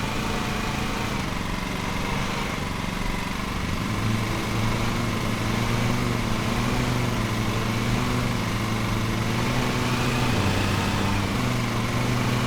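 A lawn mower engine runs steadily in the Lawn Mowing Simulator video game, a continuous droning hum with a slight shift in pitch partway through as the load changes, and no other sounds on top.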